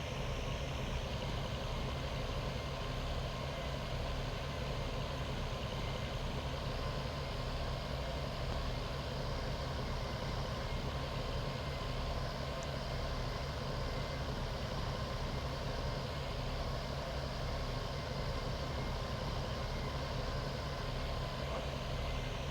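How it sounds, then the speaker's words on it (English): A tractor engine runs steadily at idle, a continuous low rumble and drone that holds unchanged throughout with no talking. "let you enjoy the sound of the tractor"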